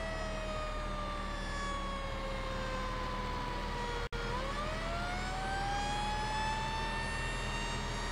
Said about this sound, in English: two things I don't like about this brush truck. The siren and the horn